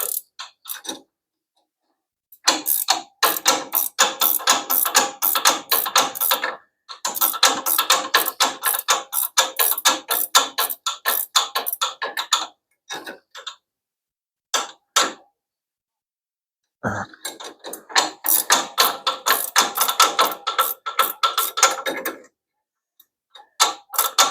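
A ratchet wrench cranks while the front springs are changed on a 1934 Plymouth coupe. It makes rapid, loud clicking in long bursts, broken by short silent pauses.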